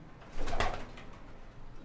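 Pigeons in a pigeon loft, one soft brief coo rising out of quiet background rustle, close but faint.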